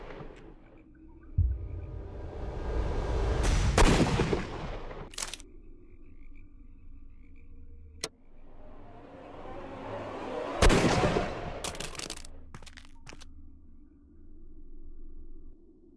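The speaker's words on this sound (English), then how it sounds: "Good shot, Watson." Gunshots in the Sherlock Holmes: Crimes and Punishments game, several sharp cracks with rumbling blasts swelling around them, scattered across a quiet backdrop with distant ambience.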